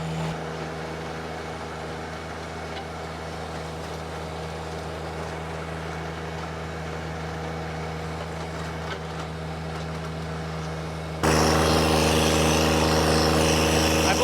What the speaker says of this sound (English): that tractor's got a lot of power